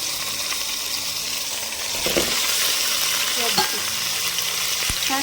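Ginger garlic paste with turmeric and spices stirred in a hot pan, a steady sizzle broken by a few scraping strokes of a spoon against the pan, with no talking.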